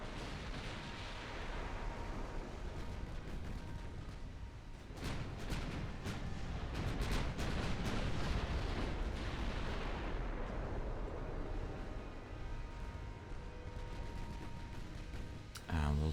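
Heavy naval guns boom in a Chinese campaign of the warship game Ultimate Admiral: Dreadnoughts, a series of deep thuds and rumbling blasts over a constant loud battle roar.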